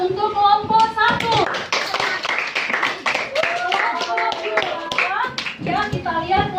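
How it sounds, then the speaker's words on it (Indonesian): Classroom group clapping rhythmically for a quiz team, steady sharp hand claps throughout, mixed with children's voices and excited chatter. "Beri aplaus untuk kelompok 1."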